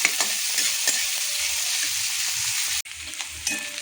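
Onions frying slowly in oil to a light golden brown for aloo palak masala, a steady close sizzle with occasional stirring scrapes, briefly cut off near the end before resuming.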